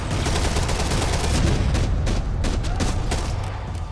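Sustained gunfire in the video game Max Payne 3, dense overlapping shots and bursts rolling continuously and loudly throughout, with no clear pauses.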